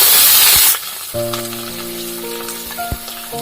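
Chopped onions frying in a pan for an upma masala breakfast dish, a loud, dense sizzle lasting under a second before it cuts away to quieter kitchen tones.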